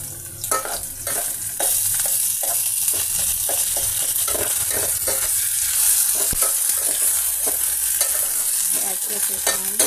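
Ginger and shallot paste fries with green chillies in a pan, a steady bright sizzle throughout with repeated spatula scrapes and stirs, close and fairly loud.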